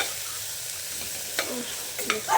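Bitter gourd palya with sambar powder stirred in a pan, a steady low sizzle with a few scraping strokes of the spoon near the end.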